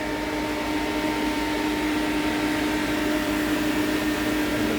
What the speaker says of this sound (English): There's all kinds of units up here. Exhaust fans.